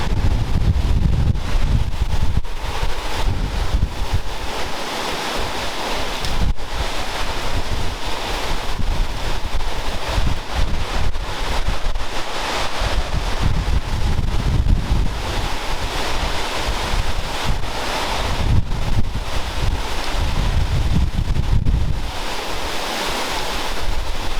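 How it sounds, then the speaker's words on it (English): Powerful hurricane wind roars without letup, battering the microphone with heavy gusts over a deep rumbling din like pounding surf. "But we've definitely had some big gusts."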